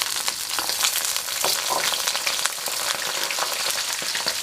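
Potato pieces crackle and sizzle in hot oil, a dense, steady frying hiss with scattered sharp pops throughout, close and fairly loud, with no voices.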